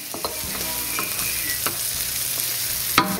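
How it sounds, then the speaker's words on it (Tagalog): Garlic sautéing in a pan for cheesy beef caldereta, a steady close sizzle and fry hiss with a few scraping stirs of a utensil against the pan. "Gisahin nyo lang maigi, ha."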